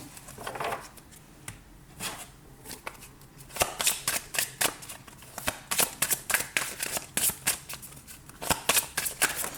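Tarot cards being shuffled for a new draw, a run of crisp papery riffles and flicks that start sparse, then come in quick irregular bursts, close and clear with no talking.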